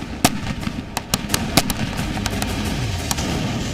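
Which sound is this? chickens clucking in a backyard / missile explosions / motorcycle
missile explosions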